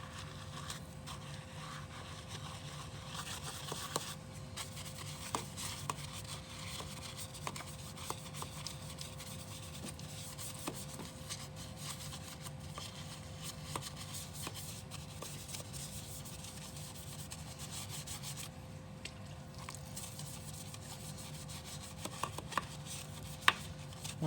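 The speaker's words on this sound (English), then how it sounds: "I'm gonna make sure we're gonna start with a boar's hair brush" Wet boar's hair brush scrubbing car wheels, a continuous soft rubbing and scratching with faint repeated strokes, quiet and steady throughout.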